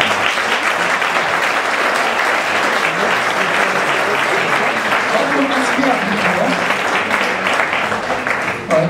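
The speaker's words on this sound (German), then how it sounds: "Bitte begrüßen Sie mit einem Applaus" Steady, dense applause from an indoor audience welcoming a band on stage at a bookstore event, loud and continuous throughout with no talk over it.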